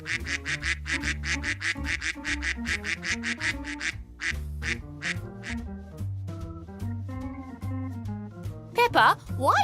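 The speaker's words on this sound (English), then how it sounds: "The ducks are chasing after Danny Dog." Cartoon ducks quacking in a rapid, loud run of repeated calls as they chase a dog, over bouncy background music, with a character's voice briefly heard near the end.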